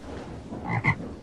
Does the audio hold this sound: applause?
no